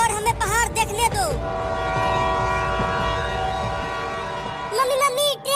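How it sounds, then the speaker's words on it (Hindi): A cartoon train whistle blows in a long sustained tone between bursts of animated speech, with rail rumble and clatter underneath. "मम्मी मम्मी ट्रेन की सीटी की आवाज आ रही है, लगता है अब ट्रेन आने ही वाला है।"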